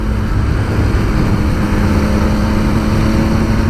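A 2018 Triumph Speed Triple RS three-cylinder motorcycle engine drones loudly and steadily at close range, a continuous throaty hum with wind rush and no speech.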